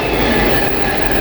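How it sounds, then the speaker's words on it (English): Locomotive 88003 hauls the Tesco container train from Daventry to Tilbury through Milton Keynes Central on the West Coast Main Line, a steady, loud rolling rumble of wagons passing close by for the whole stretch, with no voices. "8803 hauling the Tesco train from Daventry to Tilbury."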